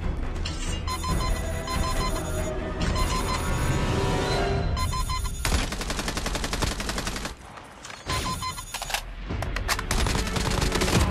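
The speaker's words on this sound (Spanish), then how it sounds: "Aquí adelante se escuchan disparos" Rapid bursts of automatic gunfire in Call of Duty Mobile crackle and rattle repeatedly, loud and dense, with short pauses between volleys and occasional beeping electronic tones.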